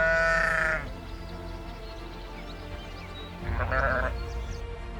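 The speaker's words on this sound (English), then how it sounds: "This is the Barbary sheep, or Aoudad." A Barbary sheep, or aoudad, bleats twice in the Atlas mountains, two loud nasal calls separated by a few seconds of quieter low rumbling background.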